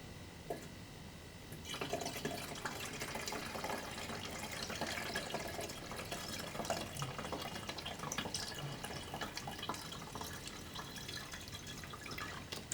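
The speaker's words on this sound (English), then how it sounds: "now I'm just going to top it up with a little bit of coolant using this homemade funnel" Coolant pours from a bottle through a homemade funnel into a reservoir, a soft continuous trickling and gurgling that starts after a quiet second and carries on steadily, close and faint with no talk.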